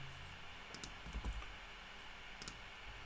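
Keystrokes tapped on a computer keyboard, a few short clusters of clicks with pauses between them over a steady background hiss, close and fairly quiet, with no talking.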